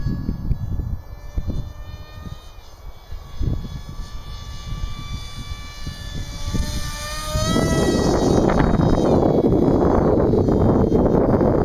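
A radio-controlled model Concorde flies overhead with a high whining turbine drone. The pitch glides and the sound swells loud and rough as it passes close.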